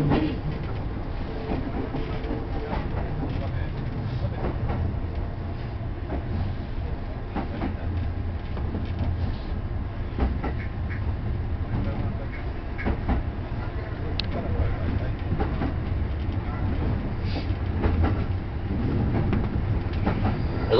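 Kintetsu express train running on rails between Yamato-Saidaiji and Nishinokyo, a steady loud interior rumble with rhythmic clickety-clack from the wheels throughout, no talking.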